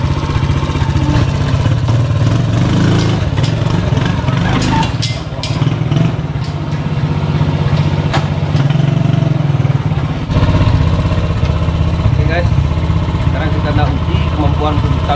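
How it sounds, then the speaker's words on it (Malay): A homemade three-wheeled motorcycle engine drones loudly and steadily with rattling clatter as it climbs uneven, rising ground on a test ride, continuous throughout with a slight dip in power partway through. "Jadi ini adalah kekuatan motor enjin sebenar."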